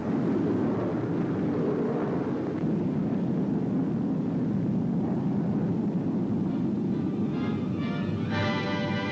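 A P-80 jet fighter plane on a trial run gives a loud, steady, continuous roar that stays constant throughout, with a few brief tonal whines rising near the end.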